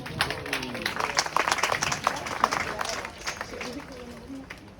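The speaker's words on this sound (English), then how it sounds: "give him a round of applause" Audience claps at an outdoor crocodile feeding show at Hartley's Crocodile Adventures, a scattered burst of clapping that swells then thins, with voices talking over it.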